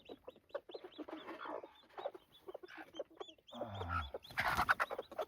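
Hens clucking to keep their chicks together in a farm brooder setting, a busy close chorus of short clucks and calls with some louder, harsher squawks near the end, no talk.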